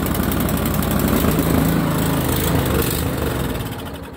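A Toro Snowmaster Q724 or Craftsman 26-inch snowblower engine runs steadily after being primed and started, a loud, close, continuous mechanical drone that fades slightly near the end.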